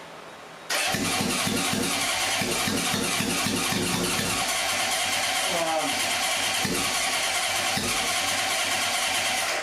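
A Honda CB750 motorcycle engine cranks hard during a start attempt, a loud, rhythmic churning that catches and sputters near the end. A person talks over it.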